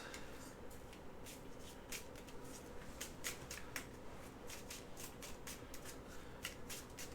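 Playing cards being shuffled for a Sidereal Confluence board game, a steady run of soft riffling bursts at low level, continuous through the stretch, with faint voices in the background.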